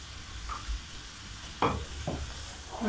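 A few scraping stirs move through Chicken Manchurian sauce in a pan, over a low steady sizzle. The strokes are near and fairly quiet, with a sharper scrape about midway.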